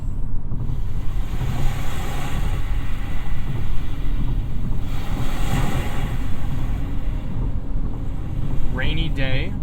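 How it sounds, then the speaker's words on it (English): Calm sea waves nature soundscape played through the 15-speaker Lexicon system of a 2022 Genesis G70, a steady broadband wash of surf that fills the cabin at even loudness, with a brief chirp near the end. "You've got Calm Sea Waves."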